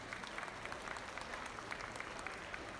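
Applause for the youth exhibitors at a junior market goat show, a steady patter of clapping from a crowd, moderately faint and even throughout with no talk over it.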